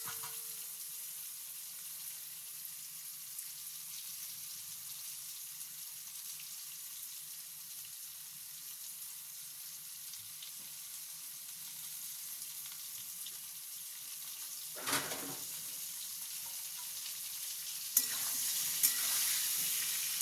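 Eggplant and potato pieces sautéing in a pan for a Bengali rohu fish curry, a soft, even sizzle running throughout, with a few faint clicks and a sharper scrape of stirring toward the end.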